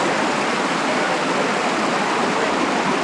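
River water rushes steadily and loudly close by, a dense continuous wash of broadband noise with no pauses or talk.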